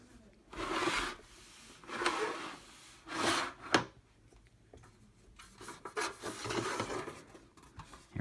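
A thin sheet aluminum dust cover slides off a Collins 562A-5M aircraft flight computer, giving several close scraping, rubbing strokes in bursts with short quiet gaps between them.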